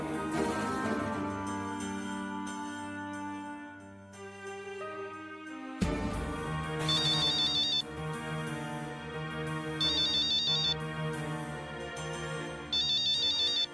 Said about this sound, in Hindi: पूर्वी, तुम्हारा फोन है.